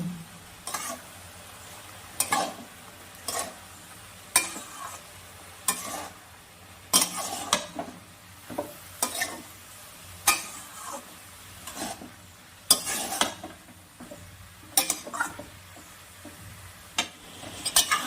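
Potatoes and onion, seasoned with salt and turmeric, fry in a pan as a spatula stirs them in steady repeated scrapes over a constant soft sizzle, close and moderately loud with no talking.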